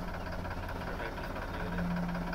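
A Massey 9500 or Arjun 605 tractor engine idles with a steady low rumble and a faint knocking vibration, close and constant throughout.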